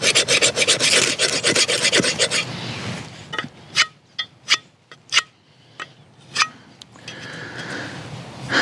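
A metal file rasps back and forth against the rough coating on a Kabar Zomstro knife blade, a dense run of close, loud strokes followed by slower, separate scrapes and ticks with pauses between them.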